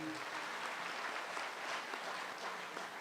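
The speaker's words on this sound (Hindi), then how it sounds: "इनके लिए बहुत सी तालियाँ" Audience applause for a performer at a Pakistani comedy show, a continuous wash of many hands clapping at a fairly low, even level throughout, with no speech over it.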